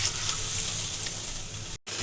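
Jackfruit pakora sizzling steadily in hot oil, a loud, continuous broadband crackle and hiss close by, broken by one brief dropout near the end.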